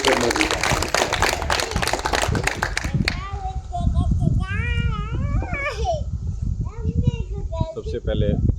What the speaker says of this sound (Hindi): जोरदार तालियों के साथ स्वागत कीजिए श्री हितेश शर्मा जी